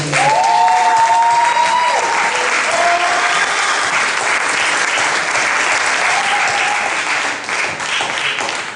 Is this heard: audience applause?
yes